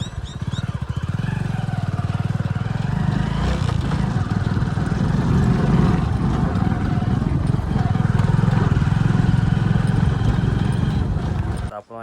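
A motor vehicle engine drones steadily and loud at close range while riding home, a continuous low rumble with a rhythmic throb running throughout.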